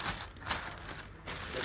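Plastic packaging wrapped around an AKRacing OPAL gaming chair from 2023 crinkles and rustles close up in bursts of crisp, dense crackling.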